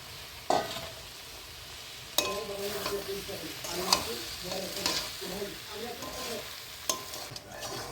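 Fried soybean chunks and potatoes drop into hot, sizzling masala, then a spoon stirs and scrapes the pan. Sharp clatters punctuate a steady low sizzle.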